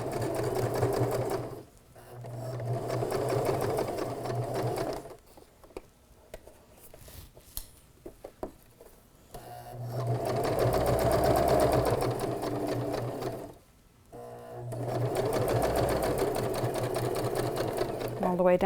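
A sewing machine stitches fabric for a pencil case in three long steady runs with pauses between, while someone talks over the stitching and the quiet gaps.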